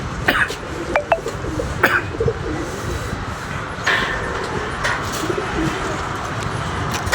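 A large flock of pigeons cooing together close by, a dense, continuous murmur of overlapping coos with a few sharper calls and bumps standing out.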